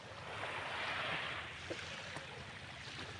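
Soft, steady wash of calm surf on a resort beach with a low rumble and breezy hiss, calm and continuous, no voices.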